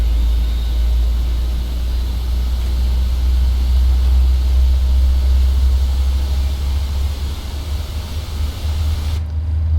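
A Boeing 737NG's number 2 engine spools up during start in Microsoft Flight Simulator, a steady loud roar with heavy low rumble and broadband hiss that holds for about nine seconds, then cuts off abruptly at the end. No talk.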